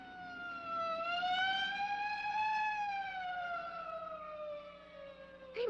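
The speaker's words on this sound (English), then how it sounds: "Hey, a police car." A police car siren from an old science-fiction film wails in a steady, sustained tone that rises and slowly falls, fairly loud and alone, ending with a short sharp noise.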